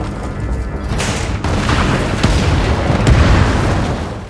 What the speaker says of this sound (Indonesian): berusaha menyelamatkan Haris, langsung memerintahkan anak buahnya untuk meledakkan tempat itu dan pergi dari sana